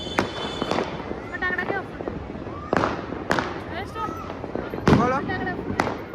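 Firecrackers burst during Makar Sankranti celebrations in Ahmedabad: a string of sharp, irregular cracks and pops, some loud and near, others farther off, with voices chattering in between.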